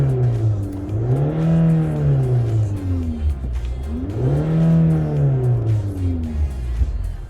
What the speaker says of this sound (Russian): Давайте послушаем с салона, как работает двигатель.